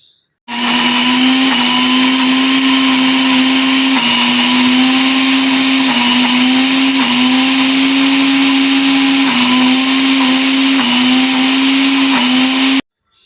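A kitchen mixer grinder blends ivy gourd chutney with a loud, steady motor whine that runs almost the whole time, pitch dipping slightly every second or two as the jar contents shift, then stops abruptly at the end.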